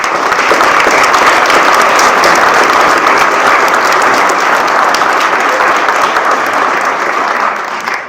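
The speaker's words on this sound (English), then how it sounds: "please give them a round of applause" Round of applause at a Buckeye school board meeting for students being recognised, a dense, even patter of many hands clapping steadily throughout before fading at the end.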